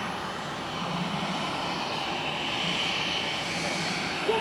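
A U-2S Dragon Lady aircraft in a flying display at an air show, its engine making a steady, fairly loud roaring drone that builds slightly and holds without any talk.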